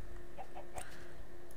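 A chicken in the Minecraft video game gives several short clucks in quick succession, close and clear over a steady low game hum.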